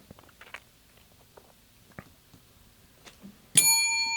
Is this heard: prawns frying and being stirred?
no